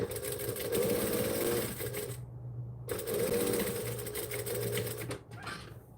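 A sewing machine stitches custom fabric pockets in two loud, close runs of rapid whirring separated by a short silent pause, with a brief quieter burst at the end.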